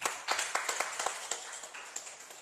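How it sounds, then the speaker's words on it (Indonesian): Applause from a small audience at the close of a Jejaka program by the Bengkulu Utara district prosecutor's office, a faint patter of scattered individual claps that stays steady, then thins. "Boleh tepuk tangan dong."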